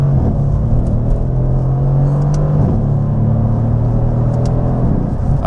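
A Mercedes-AMG car speeds up on the road, heard from inside as a loud, steady engine drone and rumble with a tone that climbs gently, and no talking.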